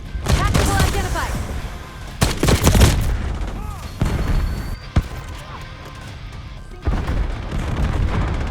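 A frag grenade detonates during online multiplayer action in Call of Duty: Black Ops 6, heavy booms and bursts of gunfire layered over game announcer callouts, with several loud blasts and rumbling aftermath.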